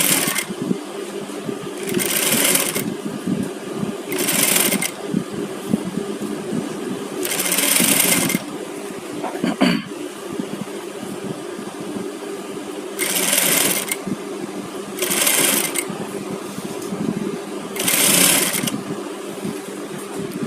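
Cloth being stitched for a garment on a sewing machine, which runs in several loud, close bursts of rapid whirring a second or two long, separated by quieter pauses with light handling sounds.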